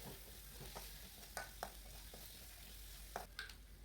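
Ground red chili spice paste frying in a pan, with a faint low sizzle and occasional soft scrapes and taps from stirring.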